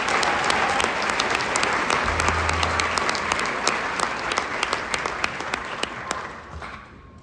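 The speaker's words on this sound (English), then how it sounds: "Please give them a round of applause." An audience at a district jazz concert applauds student soloists with a sustained, busy burst of clapping. Individual sharp claps stand out near the front, and the sound fades gradually toward the end.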